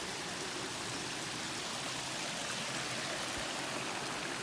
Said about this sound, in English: that's the waterfall there for the lake that Capability Brown dammed up